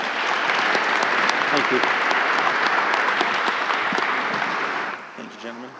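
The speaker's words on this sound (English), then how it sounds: "let's give a round of applause once again to our panelists" A conference audience gives panelists a loud, sustained round of applause for about five seconds, then the clapping thins and fades as a voice speaks briefly over the last scattered claps.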